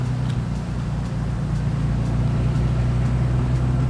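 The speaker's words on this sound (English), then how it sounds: "But the Akrapovic exhaust really does wake up the sound of this engine." A Porsche 964 flat-six with an Akrapovic exhaust drones steadily while driving, giving a constant low rumble with no break and no voices.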